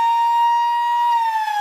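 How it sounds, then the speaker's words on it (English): A long, steady quarter-time siren sounds at a WAFL Colts football match, South Fremantle versus Claremont, one loud sustained tone with no break. "The siren will beat him."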